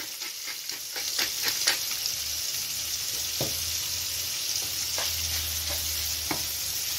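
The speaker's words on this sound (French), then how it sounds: "vous faites cuire votre saumon" Salmon seasoned with salt and pepper sizzles steadily in a pan with butter and oil, a continuous bright frying hiss with occasional louder pops and spatters, close and with no talking.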